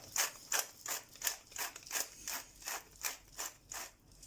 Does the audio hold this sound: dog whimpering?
no